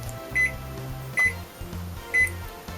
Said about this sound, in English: close the good old microwave, and now we're going to put this on for a solid minute